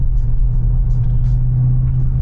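A 2021 Dodge Charger SRT Hellcat Widebody accelerating hard, heard from inside as a loud, steady low engine rumble that holds without a break, with no talk over it.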